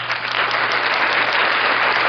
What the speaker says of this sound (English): Let's give a round of applause for this year.